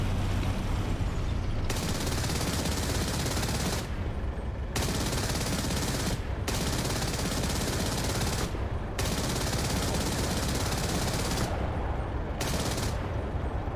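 A Shilka anti-aircraft gun in the flight combat sim DCS rattles off loud, sustained bursts of rapid automatic fire, several long volleys broken by short pauses, dense and close throughout.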